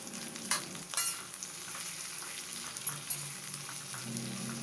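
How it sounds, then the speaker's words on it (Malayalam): Onions, green chillies and curry leaves sauté in a pan under a soft continuous sizzle, broken by several sharp clinks and scrapes of a spoon stirring against the pan. "സവാള നല്ല സോഫ്റ്റ് ആകുന്നത് വരെ വഴറ്റി കൊടുക്കണം."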